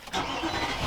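A 2021 Nissan Titan Pro-4X pickup truck engine cranks and catches, then settles into a steady low rumble heard close by.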